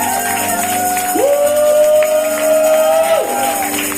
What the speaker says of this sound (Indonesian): Yuk beri tepuk tangan yang mulia bagi Allah kita